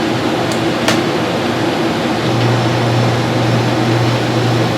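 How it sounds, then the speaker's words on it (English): An RV rooftop air conditioner runs with a loud, steady fan roar, and partway through a low compressor hum kicks in and holds beneath the airflow. "I'll listen for the compressor."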